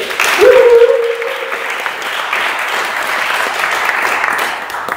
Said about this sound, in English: So another big round of applause for Stephen Berg.